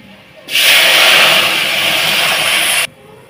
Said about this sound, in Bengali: তো দেখো ফোড়নটা বেশ সুন্দর আমার লাল হয়ে এসছে। ঢেলে দিলাম ডালটা।